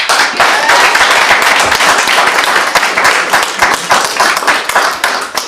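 A school board special meeting audience claps after a public comment. The applause is loud, close and dense, and it holds steady with no talk over it.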